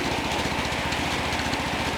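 An 18 HP engine drives a 7kW generator through a 2-to-1 pulley, running steadily with a close, even, pulsing idle-like chug that holds throughout with no talk.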